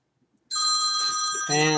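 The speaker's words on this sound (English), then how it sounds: "And that's a phone call." A telephone rings once indoors: a loud, bright trill that starts abruptly after a quiet moment, with no one talking.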